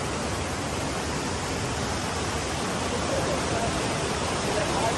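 Steady, dense rushing roar of a waterfall in Tosh, Himachal Pradesh, continuous and fairly loud across the whole stretch with no distinct breaks.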